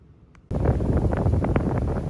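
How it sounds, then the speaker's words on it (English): Strong gusts roar across the microphone outdoors as Hurricane Ian approaches Walt Disney World Resort, a steady loud rush that starts abruptly after a quiet half second and continues without pause. "So you'll notice the wind is coming from my right."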